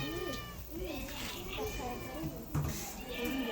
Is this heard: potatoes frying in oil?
no